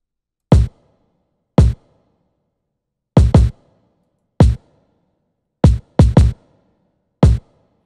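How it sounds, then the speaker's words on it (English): A lo-fi beat's drum hits with a distortion saturation plugin adding crunch, loud and punchy, struck singly and in quick pairs with silence between them. "I'm using a distortion, a saturation plugin, the New York modules, and this gives some little crunch."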